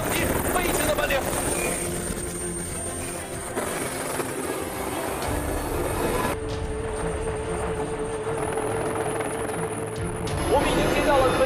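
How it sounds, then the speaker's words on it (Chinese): A military armed helicopter's huge rotor spins fast before takeoff, a loud continuous whirring drone with a high turbine whine, while someone talks over it. "巨大的旋翼正在进行快速的转动，也正是因为这个巨大的旋翼才给直升机提供了向上的升力。"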